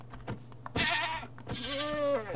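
A goat in the Minecraft video game bleats twice in quick succession, the second call longer and wavering, close and clear with no talking over it.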